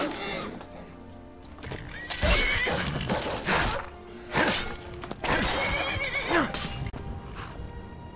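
A horse in Skyrim lets out several loud whinnies and snorts over steady clip-clopping hooves as it is ridden along, close and prominent.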